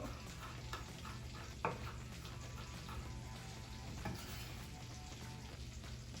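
Garlic sizzles steadily in a frying pan as a burger filling gets underway, a continuous close crackle with a couple of sharp clinks from a utensil against the pan.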